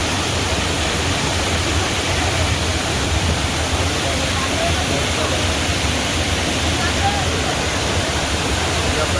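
A rain-fed waterfall roars continuously, a loud, dense rush of falling water that stays constant throughout.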